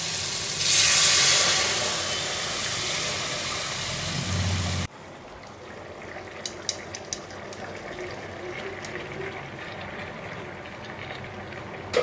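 Hot water soup poured into a pan of softened vegetables and pasta, a loud rushing gush for about five seconds, then a quieter simmering bubble with faint clicks.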